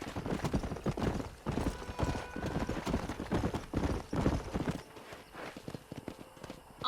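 Horse hooves pounding at a gallop in the Red Dead video game, a fast, loud, close clip-clop rhythm that runs steadily and then thins out near the end.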